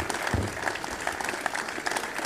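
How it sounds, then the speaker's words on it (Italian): A tennis crowd applauds at the end of a Challenger quarterfinal in Olbia, with steady, dense clapping from a sizeable audience filling the whole moment. "un applauso a Martin Landaluzer"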